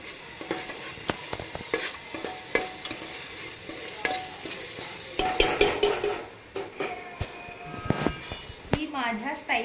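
Onion masala paste sizzles in a pan as a spoon stirs and scrapes against the metal, with repeated clinks of cutlery on cookware and a voice speaking intermittently over the frying.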